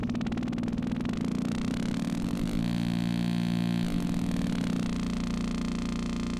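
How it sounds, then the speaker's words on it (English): A Serum synth noise oscillator pitched up 60 semitones settles into a steady buzzing tone, continuous and loud with a shifting, grainy texture across several seconds. "You can hear that in this case at 60 semitones, which is 5 octaves higher, we get like a stable tone out of it."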